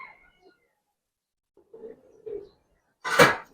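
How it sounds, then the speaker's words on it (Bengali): Pigeons at a market stall where birds are sold give a few soft, low coos, quiet and spaced apart, followed by a louder bird call or flutter near the end. "নট বেজি কবুতর, কোরাইল কবুতর দেখেন।"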